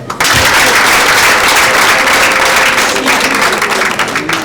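An audience in Rwanda bursts into loud, sustained applause, dense clapping that carries on steadily for several seconds at close range.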